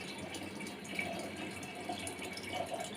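Very hot water runs from a kitchen tap in a steady, moderate hiss and splash that continues unbroken for a few seconds, close by with no talking.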